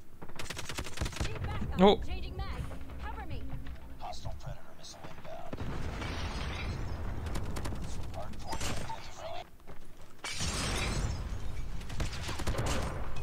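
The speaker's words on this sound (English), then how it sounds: "I hear the shots." LK gun fired in COD Mobile, with scattered shots and bursts heard faintly amid game effects, while a player talks over it.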